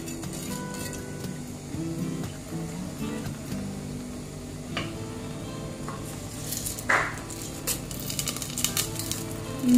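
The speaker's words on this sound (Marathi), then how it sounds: "माझी मोहरी तडतडलेली आहे." Mustard seeds crackle and pop in hot oil for a vegetable curry, a scattered run of small sharp ticks and snaps at moderate volume, with faint kitchen clinks in between.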